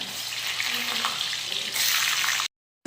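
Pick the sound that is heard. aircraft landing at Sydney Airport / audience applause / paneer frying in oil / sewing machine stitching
paneer frying in oil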